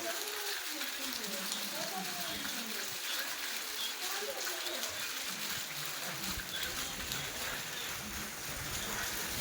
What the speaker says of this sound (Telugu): సో వాన అయితే బాగానే పడుతుంది గైస్.